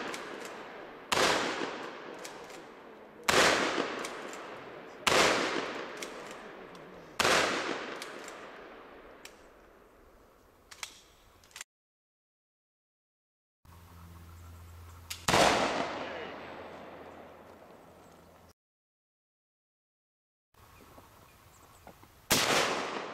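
A gun fired at pumpkins: sharp, loud shots come one after another, each with a decaying echo tail. Several shots come in an uneven rhythm, with brief silent gaps between later shots.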